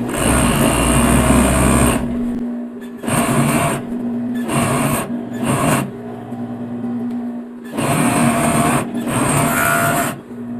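An electric sewing machine stitches a fitness legging leg from hem to crotch in loud, close bursts of rapid whirring, pausing briefly between runs.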